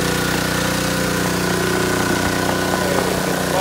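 A concrete power trowel's small engine idles close by, a steady mechanical drone with a few faint knocks over it.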